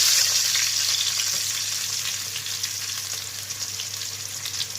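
Green chillies, ginger and garlic sizzle steadily in a hot pan while being fried for chilli chicken, a close, continuous crackle that eases slightly in loudness, with no talk.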